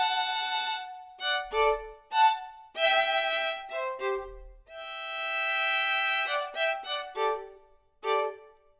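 Abbey Road Two sampled string library played on a live patch: sustained and short bowed notes with varied attacks, phrases starting and stopping, clean and alone.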